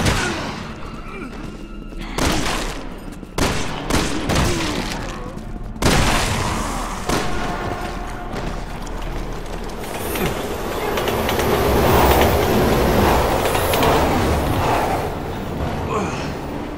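A train rumbles past in Resident Evil 6 amid game effects, with heavy thumps and booming impacts early on, then a sustained loud rolling roar building toward the end.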